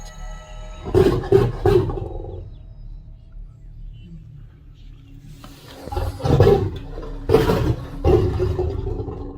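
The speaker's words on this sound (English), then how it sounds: "As the lion makes the biggest roar imaginable, warning the man not to come any closer." A lion gives a series of loud, close roars, bursts of deep roaring in two groups separated by a quieter stretch, during a tense wild encounter with a camper who tries to approach a lion pair.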